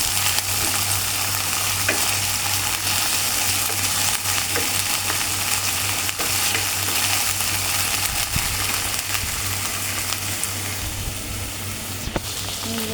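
Raw spices and onion paste frying in a pan for a fish curry make a dense, even crackling sizzle close at hand, steady for the whole stretch and broken only by occasional faint spatula knocks, with no talking.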